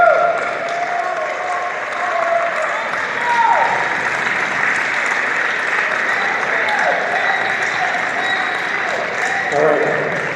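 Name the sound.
audience applause for Senator Jeff Merkley at a town hall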